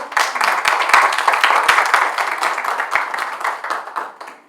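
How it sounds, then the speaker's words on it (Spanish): A crowd at the opening session of a scientific conference bursts into loud, dense applause, steady clapping sustained throughout before tapering off at the end. "pido un aplauso"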